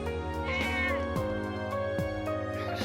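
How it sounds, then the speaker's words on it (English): A cat meows repeatedly in the video game Trails of Cold Steel. The drawn-out, wavering cries rise and fall over steady in-game background tones. "Stupid fucking cat."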